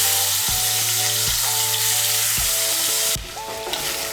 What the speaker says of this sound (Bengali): প্রথমে আমি চিংড়ি মাছগুলো ভেজে নেব। তার জন্য কড়াইতে দিয়ে দিয়েছি সর্ষের তেল।